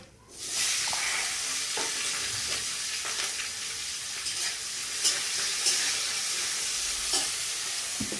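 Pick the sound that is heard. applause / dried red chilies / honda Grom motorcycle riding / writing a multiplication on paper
dried red chilies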